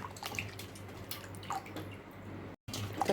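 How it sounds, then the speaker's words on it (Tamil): Raw mango being washed in water gives close splashing and dripping, with small wet squishes and one brief dropout near the end. "மாங்காய் கழுவிக்கோங்க."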